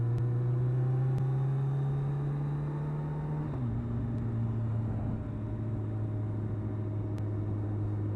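A motorbike engine holds a constant throttle on a country road ride through Wiltshire at about 50, droning steadily with a smooth hum that drops slightly in pitch partway through under steady wind rumble.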